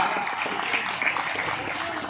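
A crowd applauds at a village wrestling bout, a continuous mass of clapping heard at moderate distance, with voices faintly mixed in.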